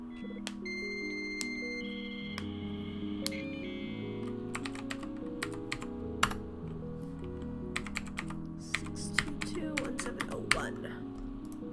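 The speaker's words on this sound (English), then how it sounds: "My keyboard's about as loud as most were back in the day." Fast, loud clacking from a computer keyboard, keys striking steadily for over ten seconds, with a few electronic beeps and a low musical background mixed in.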